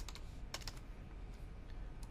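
Clicky keystrokes on a computer keyboard while setting point type in Illustrator, a few quick bursts of taps spaced across a quiet, steady room background with no talk.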